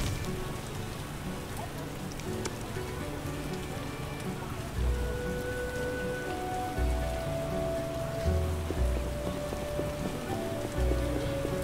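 Rain falls steadily in The Witcher video game, a dense, even patter of drops on surfaces with faint low thumps and soft ambient tones beneath, no voices present.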